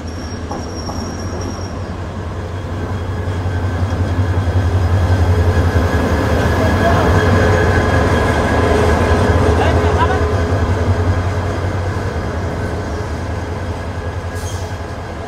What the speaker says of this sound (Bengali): প্রবেশ করছে আমাদের আজকের ট্রেনের লোকোমোটিভ।